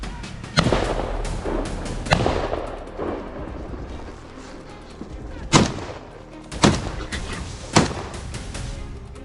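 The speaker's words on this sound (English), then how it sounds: "A volley of gunfire tore through the silence loud, relentless and final." Gunfire rings out during a wild boar hunt: roughly half a dozen sharp, loud shots at irregular intervals, each followed by a rumbling echoing tail, with no voices.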